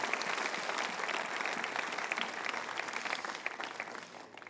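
A church congregation applauding, dense sustained clapping from many hands filling a large room and tapering slightly toward the end.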